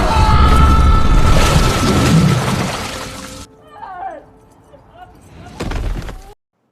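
A loud, roaring blast in a film scene rumbles for a few seconds, then cuts to quiet with faint scattered noises and a short final burst.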